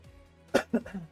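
A single person coughs close to the microphone, two or three quick, sharp bursts in a row after a short quiet pause.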